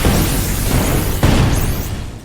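Explosion sound effect from a reviewed film reel: a broad, loud blast roaring continuously across the clip, with a fresh burst around the middle and whistling tones near the end, no talk.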